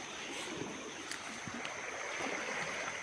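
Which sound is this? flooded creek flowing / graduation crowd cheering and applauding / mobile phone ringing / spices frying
flooded creek flowing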